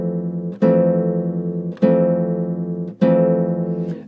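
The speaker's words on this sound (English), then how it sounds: "So I'm going to pluck all strings together, so it's going to sound like this." Chords of a song are plucked on a guitar, all strings together, in four sustained strums spaced about a second apart, each ringing out and decaying, with no voice.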